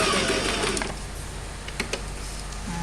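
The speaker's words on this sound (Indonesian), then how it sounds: "Kita buat jahitan mundur, ditekan, sambil ditekan, jangan dilepas" A Singer 2250 sewing machine sewing a backstitch, its fast mechanical needle chatter loud at first, then easing to a softer running clatter with a few sharp clicks.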